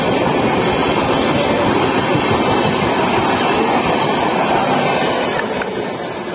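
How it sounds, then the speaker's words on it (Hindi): Tejas Rajdhani express train passing close by on the railway, a loud continuous rumble and rattle of wheels on track holding steady before easing off near the end, with no voices. "भुवनेश्वर तेजस राजधानी। अरे बाप रे बाप क्या बेहतरीन ट्रेनें मिल रही है आज।"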